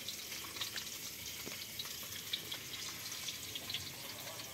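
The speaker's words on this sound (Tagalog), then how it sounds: "itong kasama namin nagpiprito ng bangus" Steady crackling sizzle of milkfish frying in hot oil, with scattered pops and spits over a constant hiss, close by with no voices.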